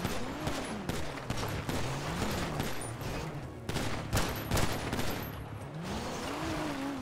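Pistol fire in the driving chaos of Grand Theft Auto V roleplay: scattered sharp shots crack over a steady rumble of engines and traffic, moderately loud and fairly close throughout.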